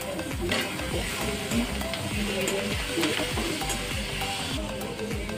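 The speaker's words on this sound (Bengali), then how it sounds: "লঙ্কা কুচনোটাও দিয়ে দিলাম, নুন, হলুদ আর বেশ কিছুটা টমেটো কুচি।" Chopped chilli, salt, turmeric and tomato fry in a pan, a steady close sizzle under a repeating scrape and clatter of stirring, with a voice talking quietly beneath it.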